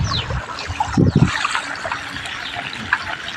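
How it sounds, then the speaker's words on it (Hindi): Floodwater rushes and trickles beneath a submerged road during monsoon rain, a continuous watery wash with a few louder low splashes near the start, steady and close. "नीचे पानी चेक करिए."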